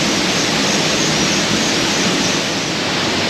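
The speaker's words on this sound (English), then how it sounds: "And there's your waterfall." Waterfall at Oropendola in Costa Rica, a steady, dense roar of falling water close by, loud and unbroken with no voices over it.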